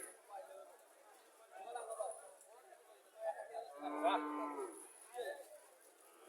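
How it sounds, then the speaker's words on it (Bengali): A cow with her bull calf at a busy cattle market in Mirshani, Comilla, giving a few moos among the crowd's chatter and bustle, with people talking nearby. "বাছুরটা সুন্দর আছে, সার বাছুর।"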